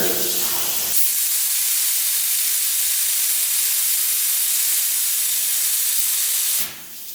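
A steady, loud hiss of a spray gun spraying clear coat on a Ford runs unbroken for several seconds, then cuts off abruptly.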